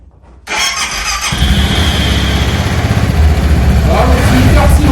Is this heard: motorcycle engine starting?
yes